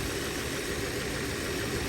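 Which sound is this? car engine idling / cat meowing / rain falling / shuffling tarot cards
car engine idling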